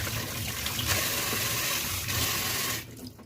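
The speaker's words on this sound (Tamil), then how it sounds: "அப்படியே குழாயை திறந்து விட்டு கழுவேன் பாருங்கள்" Water runs steadily from an open tap while a comb is washed under it, a close, continuous splashing stream that thins out near the end.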